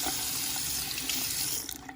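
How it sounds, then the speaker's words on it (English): A kitchen faucet runs steadily to rinse a dirty aerator, giving a loud, continuous splashing hiss of water into the sink that eases slightly near the end, close up with no talk. "rinse it off"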